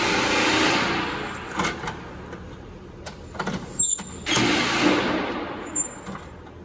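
A custom portable mini tool box, stocked with Knipex, Wera and Gearwench tools, being opened: a few sharp latch clicks, then a broad rushing scrape of lid and drawers sliding, close and fairly loud.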